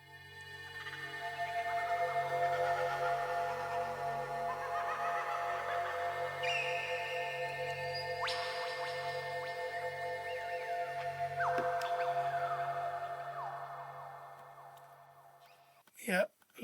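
A psychedelic, eerie synthesizer atmosphere built in Phase Plant drones steadily with shimmering tones sweeping and shifting, a low hum underneath, fairly quiet, ending in a short burst of noise.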